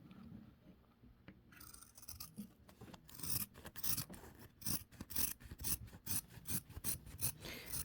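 Scissors snipping through sewn bag fabric right at the seam edge, a steady series of close, crisp rasping cuts after a quiet start.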